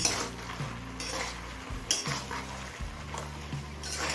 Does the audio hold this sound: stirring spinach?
yes